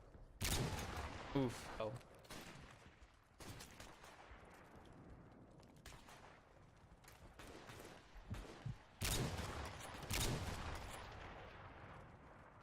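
Gunfire in a shooter video game, Battlefield V or Call of Duty, with repeated loud bursts and scattered shots across the clip, a player briefly exclaiming over the action.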